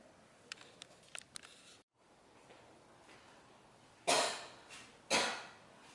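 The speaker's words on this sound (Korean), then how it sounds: "선생님 계속 기침이 나온다면서" Two sharp, fairly close coughs from a teacher with a lingering sore throat during a high school English lesson, about a second apart, following a stretch of faint clicks, with no talking.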